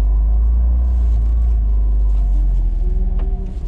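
A Honda Acty kei truck pulls through a U-turn, its small engine giving a steady low rumble close by that wavers and fades slightly toward the end, with no talk.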